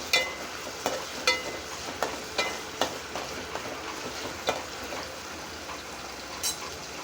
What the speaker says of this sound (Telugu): టమాటా ఉల్లిపాయ ఇవ్వండి కలుపుకుంటున్నాను.